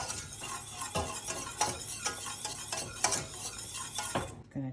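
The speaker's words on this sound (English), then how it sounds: "we're going to mix this vigorously until we get this paste" A flour roux paste is mixed vigorously in a pan on low heat, with rapid repeated scraping and stirring strokes in an uneven rhythm, close and moderately loud, ending abruptly.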